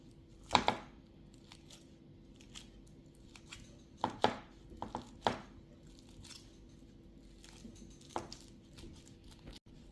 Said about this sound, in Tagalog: Ito na po yung dalawang saging. I-smash natin.